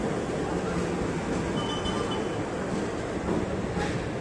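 A CC 206 diesel locomotive rumbles through Kampung Bandan station, a loud steady broadband roar of engine and rolling wheels, close by with no talk.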